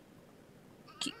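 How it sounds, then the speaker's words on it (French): A cat in The Sims 4 life-simulation game lets out one brief, clear meow near the end after quiet background ambience. "Ah non, c'est le chat"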